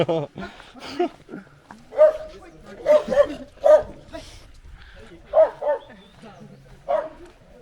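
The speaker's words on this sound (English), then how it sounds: "Some scary dogs." Several dogs bark in short, scattered bursts in Bir, a Himalayan town in India, some yips among them, fairly close, with a person's voice faintly in the background.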